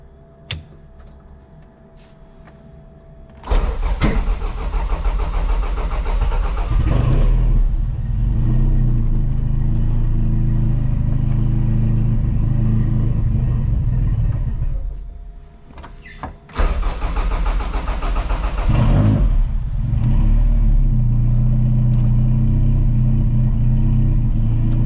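A cold Toyota Celica engine cranks and starts, then runs with a rough, labored rumble and repeated loud revs. It briefly drops to idle, then revs hard again, close and prominent.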